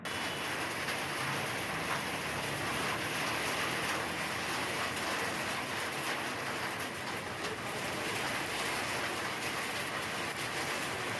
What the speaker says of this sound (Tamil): கிராமப்புறங்களில் ஆங்காங்கே தொடர்ந்து அதி கனமழை பெய்து வருவதால்